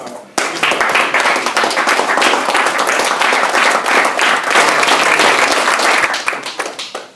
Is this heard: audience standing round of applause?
yes